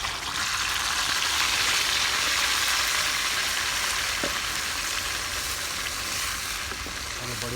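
Ground masala sizzles and fries steadily in hot mustard oil for a fish curry, a continuous crackling hiss throughout, close and fairly loud, with occasional stirring.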